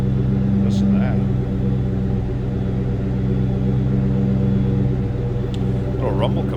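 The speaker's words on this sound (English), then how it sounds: "Little rumble coming out of that Cobra." A 2001 Ford Mustang SVT Cobra convertible idles with a steady, low, even engine rumble, close and continuous throughout, with a few faint clicks on top.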